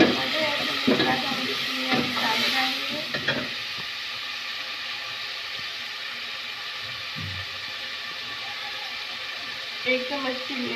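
Tomatoes added to browned garlic and onion in a pan for spinach-and-meat curry fry with a steady loud sizzle, and stirring scrapes come early and near the end while a voice talks over it.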